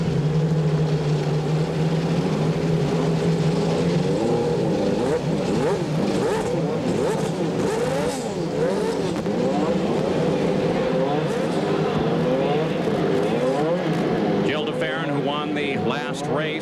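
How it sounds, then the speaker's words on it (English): Engines of 27 Indy cars fire together on the starting grid at the 1996 CART season opener at Homestead, a dense layered engine roar rising and revving steadily throughout, with a commentator talking over it. "As the command rings out and the engines fire in 27 Indy cars."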